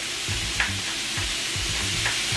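Freshly cut cilantro and parsley get stirred into warm vegetables in a pan, giving a steady frying sizzle with soft scraping stirs and a couple of light clicks, close up and without talk.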